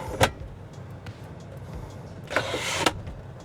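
An electric seat in a Mercedes V300d AMG slides along its rails, a short motor whir with clicks inside the van, with quiet cabin background between the bursts.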